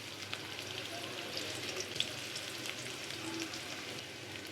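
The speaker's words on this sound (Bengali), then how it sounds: "পেঁয়াজ ভাজতেছি, দিয়ে দিলাম ছোট এলাচ, দারচিনি, দিয়ে দিচ্ছি আদা রসুনের কুচি" Onions fry in a pan with small cardamom, cinnamon and chopped ginger and garlic, giving a quiet, even sizzling hiss with faint crackles throughout.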